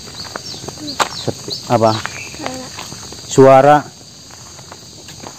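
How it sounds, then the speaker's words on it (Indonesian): Birds call outdoors on a walk, with several short harmonic chirps and one louder, longer call near the end, set against a constant high insect buzz while people talk quietly nearby. "Suara burung. Iya burung."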